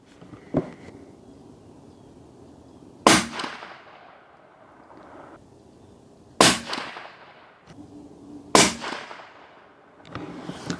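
Ruger American Gen 2 rifle in 7.62x39 firing Remington ammunition at a 100-yard range: four sharp, loud shots spaced a few seconds apart, each with a short echoing tail, plus a fainter bang near the end, with no talking.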